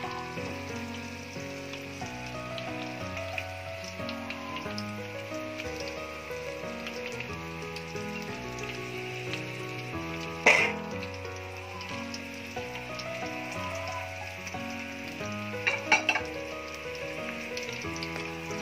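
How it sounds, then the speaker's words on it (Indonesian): Galangal, lemongrass, lime leaves and onions sauté in hot oil with a steady, even sizzle throughout, broken by a couple of brief louder clatters near the middle and toward the end. "Oke, kita tumis seperti ini sampai bawangnya layu."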